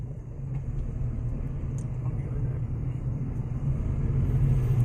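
A Nissan Magnite car driving slowly through a U-turn, heard from inside as a steady low engine and road rumble with no sharp events.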